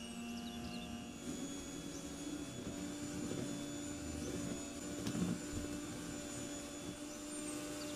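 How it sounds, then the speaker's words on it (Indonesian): Electric mixer at low speed beating powdered sugar with margarine, a steady whirring drone with a constant tone, close and continuous throughout with a slight swell near the middle. "Kemudian ini kita mix menggunakan kecepatan rendah terlebih dahulu sampai gula halus menyatu dengan margarin atau butternya."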